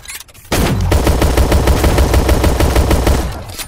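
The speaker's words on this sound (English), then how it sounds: "Change to the pistol! Shoot at it!" Pistol gunfire in a Call of Duty video game, a loud, rapid string of shots that starts suddenly and keeps going evenly for about three seconds before tailing off.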